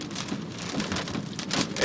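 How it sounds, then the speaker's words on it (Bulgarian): Heavy rain pours steadily during a storm after a tornado passed through Ocean City, Maryland, a dense, continuous hiss of drops with gusty surges. "А сега има само буря"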